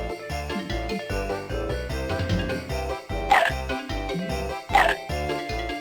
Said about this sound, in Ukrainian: Да, це собака.